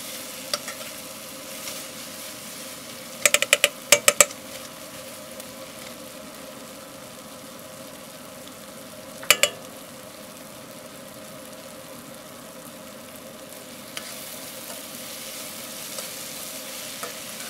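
Garlic fries for chili in a pan over a coke forge fire, giving a quiet, even sizzle with a low hum beneath, broken by a few sharp metallic clicks and taps.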